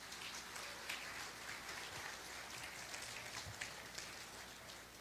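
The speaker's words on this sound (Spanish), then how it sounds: "Vamos a dar un aplauso a nuestro Padre." A church congregation applauds during a sermon, a steady dense patter of many hands heard from a distance, faint and even throughout.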